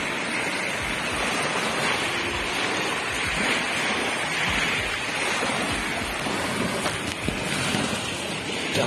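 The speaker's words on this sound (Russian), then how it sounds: "О, волна от теплохода." Wake waves from a passing river ship on the Volga at Tetyushi slosh and lap steadily against the shore in continuous rushing surges, with wind noise buffeting the microphone throughout.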